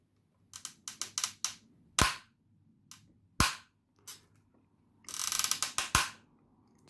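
Ratchet joints on a Transformers War For Cybertron Kingdom Titan Class Autobot Ark figure clicking sharply in quick bursts as it is transformed, a tight rapid ratcheting rattle broken by louder single snaps, close and alone.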